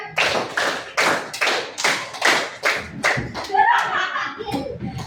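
A fifth-grade class claps in unison in a rhythmic run of sharp, closely spaced group claps, after which children's voices and chatter take over.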